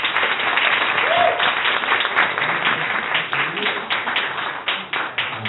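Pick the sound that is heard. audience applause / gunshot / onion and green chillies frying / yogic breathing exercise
audience applause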